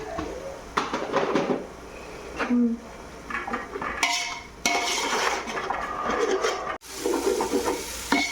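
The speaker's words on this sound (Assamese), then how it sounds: "গোটা জিৰা দিছোঁ বাৰু তেলৰ পাকত, জিৰা দিছোঁ।" Whole cumin seeds sizzling in hot oil in a large cooking pot for yakhni pulao, a close crackling sizzle mixed with loud metal clatter and stirring scrapes.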